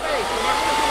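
A hair dryer runs at a salon, a steady broadband blowing hum that holds loud and even for the whole second with no voices over it.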